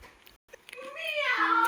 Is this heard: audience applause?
no